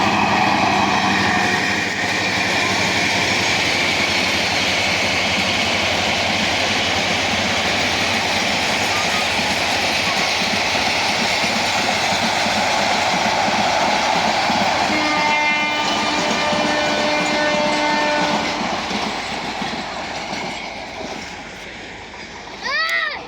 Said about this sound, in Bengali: একটা ট্রেন যাচ্ছে আর একটা ট্রেন কিন্তু অলরেডি আইসা পড়তেছে।